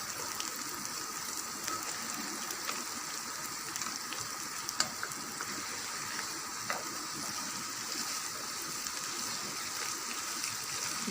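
Chicken pieces fry in a pan with garlic and ginger for a chicken, capsicum and potato dish, giving a steady, close sizzling hiss with scattered small crackles and pops throughout, and no talking.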